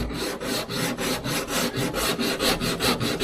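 A sanding block works over auto body filler with a steady back-and-forth rasp, about a dozen even strokes in quick rhythm, close and fairly loud with no talking.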